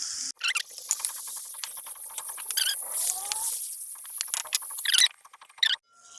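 Tomatoes sizzle and patter in a pan of frying garlic-ginger paste, a steady crackling hiss with brief sharp spits and pops, close and alone with no talking.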